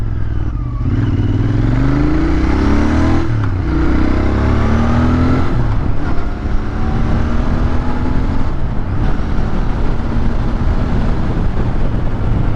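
Steady engine drone and heavy wind rush of a Royal Enfield Interceptor 650 motorcycle cruising at highway speed, loud and continuous, with the pitch climbing through gear changes early on.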